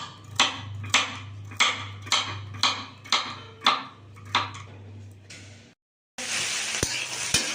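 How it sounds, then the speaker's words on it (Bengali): Potatoes and carrots frying in a pan, with a steady low sizzle under roughly ten regular sharp clinks of a utensil against the pan, then a brief silence before a louder, fuller burst of sizzling. "এদিকে দেখো আলু গাজরটা আমি ভাজতে দিয়ে দিয়েছি"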